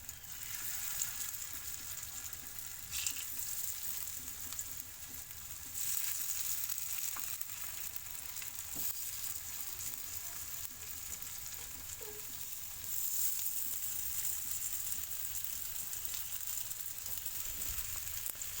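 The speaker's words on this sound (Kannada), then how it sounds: "ಇದರಲ್ಲಿ ಎಣ್ಣೆ ಹಾಕಿದ್ದೇನೆ. ಒಂದೊಂದೇ ಪೋಡಿ ಇದರ ಮೇಲೆ ಇಡುತ್ತೇನೆ." Slices of elephant foot yam, laid one by one into hot oil as fritters, fry with a constant soft sizzle and hiss, close but fairly quiet, swelling slightly at a few points, with no talking.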